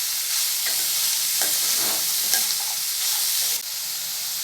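Finely chopped carrots sauté in oil for a Tamil carrot poriyal, giving a steady close sizzle with soft stirring scrapes and no voices.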